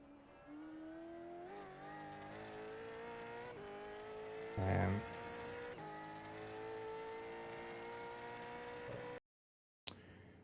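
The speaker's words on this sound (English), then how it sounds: "Watch the wheel spin on the exit." A Gen3 Supercar in a Long Beach racing game accelerates out of a corner, its engine note climbing steadily through the gears with a brief burst of tyre noise as the wheels spin midway, then the sound cuts out near the end.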